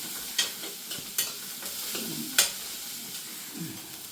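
Onions frying in a pan for a spinach and taro-leaf thoran, stirred with a few distinct scraping strokes over a soft, steady sizzle, close and fairly quiet with no voices.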